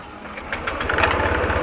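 A Honda Click 125i motorcycle engine, freshly cleaned, sputters into life and settles into a fast, even putter, growing slightly louder as it keeps running nearby without talk.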